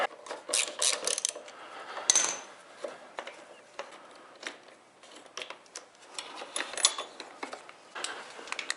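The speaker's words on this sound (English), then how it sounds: "we're going to remove these 2 Phillips screws that are hiding the reservoir for the rear master cylinder" Phillips screws come out of a Kawasaki KLR 650 cover near the rear master cylinder reservoir, with rapid ratcheting clicks and small metallic ticks in uneven bursts, close and fairly quiet.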